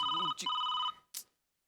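Telephone ringing in a comedy sketch, a loud close electronic ring tone in two trilling bursts broken by a brief voice, followed by a short noisy rustle and silence.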